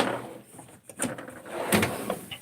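A tool chest drawer slides open with a metallic rolling rattle and a couple of clunks, close by, with no talking.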